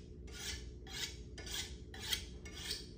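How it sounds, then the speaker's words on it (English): Kitchen knife drawn along a honing steel at a 25 to 35 degree angle, five even rasping metal strokes in a steady rhythm, close and clear with no talking. "At a 25 to 35 degree angle, you're gonna put it up against the steel."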